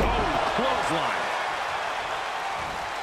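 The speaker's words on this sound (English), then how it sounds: "The roar of this crowd has been building, and they are at a fever pitch right now." At an AWA professional wrestling match, an arena crowd roars in a continuous, dense wash of noise, with a commentator talking over it.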